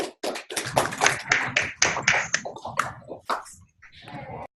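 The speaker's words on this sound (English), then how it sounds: "So let's clap a little bit to these guys." A small group at an online software demo meeting claps in irregular, sharp bursts that start and stop, fairly close and without talk over them.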